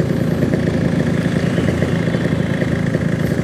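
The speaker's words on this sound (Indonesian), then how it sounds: "suara mesin berisik banget" A motorcycle engine drones loudly and steadily on a ride in light drizzle, with a rough, noisy mid-pitched hum and wind rumble that fills the whole stretch without pause.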